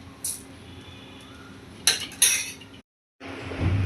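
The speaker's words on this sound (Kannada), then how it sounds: "ಸಕ್ರೆ ಹಾಕಿ ಒಂದು ರೌಂಡ್ ಗಿರ್ ಅನ್ನಿಸ್ಕೊಂಡು ಬರೋಣ ನೋಡ್ರಿ" Sugar is stirred into wheat huggi in a pot: a few metallic spoon clinks and scrapes against the pot, close and fairly quiet, with a brief gap of silence near the end.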